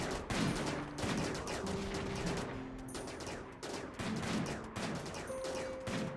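Gunfire in modded Rimworld during a fight with a T-Rex, a rapid, continuous rattle of shots in uneven bursts with short pauses, fairly close and steady throughout.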